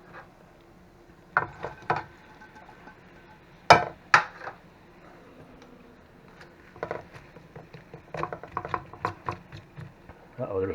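Handfuls of cabbage drop into a pan of cooking onions and bacon, scattered clattering hits and rustles with utensil knocks, close, with occasional talk between.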